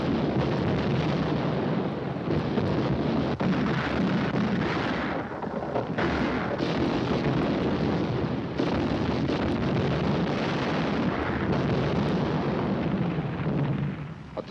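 Heavy naval gunfire and artillery shelling roll on as a continuous loud rumbling barrage with dense booms and blasts, unbroken from start to finish.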